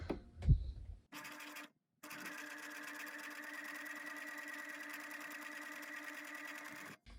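A sewing machine stitching a French seam: a short burst of reverse back tacking, a brief pause, then a long steady run of forward sewing, whirring evenly up close before stopping.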